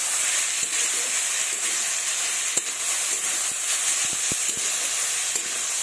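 Red amaranth greens fry with plenty of browned onions in a pan, giving a steady close sizzle and hiss, with occasional soft clicks as a utensil stirs.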